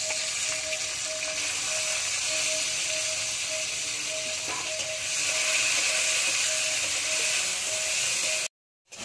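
Chopped tomatoes fry in a pan for a cauliflower curry, giving a steady soft sizzle and hiss throughout, with a faint tonal hum in the background and a short break near the end.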